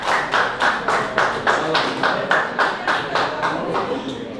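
An audience at a celebration concert claps together in a steady, rhythmic beat, loud and close, with the claps evenly spaced throughout.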